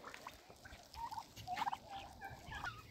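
Turkeys and hens in a coop, gobbling and squawking in short repeated bursts that sound quiet and a little distant over a low background hum.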